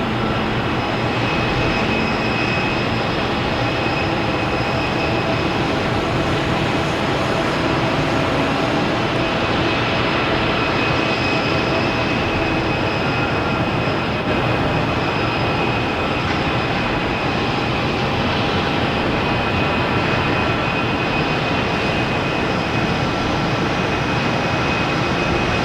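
JetBlue Airbus A220 taking off from Boston Logan, a sustained loud engine roar with steady whining tones, holding strong and even throughout, no voices.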